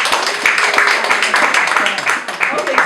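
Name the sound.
audience applause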